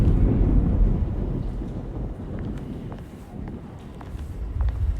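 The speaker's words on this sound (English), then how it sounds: "Love the sound of muffled thunder." Muffled thunder from a video game rolls as a low, soft rumble, heavier at the start, fading through the middle and swelling again at the end, with no talk.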